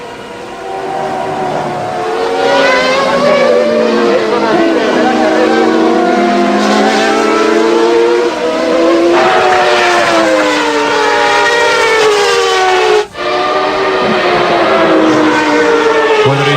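1994 Formula 1 cars race at the Barcelona Spanish Grand Prix, their high-pitched engines droning loudly and continuously with rising and falling pitch sweeps as cars pass, and voices can be heard underneath.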